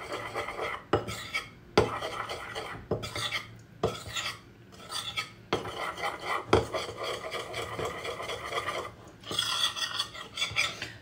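A spoon or utensil stirring a spiced mixture for beet and kohlrabi ravioli in a bowl, giving repeated scraping and rasping strokes in an irregular rhythm, close and moderately loud with no talking.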